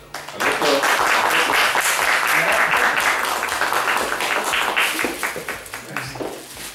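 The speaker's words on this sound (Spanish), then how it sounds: "Un aplauso para él." An audience at a James Bond fan gathering applauds a prize-winning collector, a full burst of clapping that starts abruptly, holds strong and steady, then tapers slightly toward the end.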